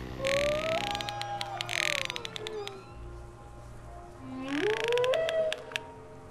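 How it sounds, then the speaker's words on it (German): Killer whale calls from the game Path of Titans: a series of loud rising and falling whistles and squeals with bursts of pulsed clicking, repeating in two main phrases over a low steady hum, with no talking. "Ich liebe diese Wal-Sounds so sehr"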